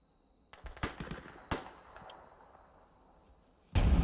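Machine gun fire in a Roblox Normandy beach game, a short volley of sharp cracks followed by a lone louder shot trailing off into quiet, then a sudden loud burst of noise at the end.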